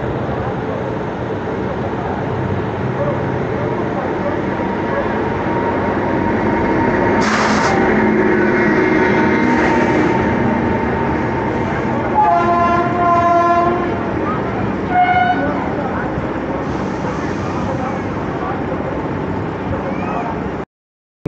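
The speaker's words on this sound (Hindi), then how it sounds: "तो ये जबलपुर हावड़ा शक्तिपुंज एक्सप्रेस का अराइवल हो रहा है आसनसोल पे" Jabalpur Howrah Shaktipunj Express arriving at Asansol station, a steady loud rumble of rolling coaches with clattering wheels, broken by several horn blasts and whistle-like tones, with voices faint in the station noise.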